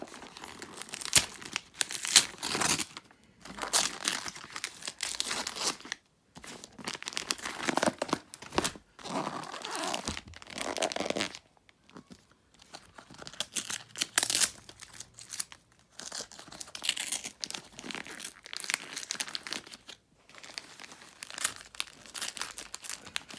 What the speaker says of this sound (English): I think I'll just peel it off.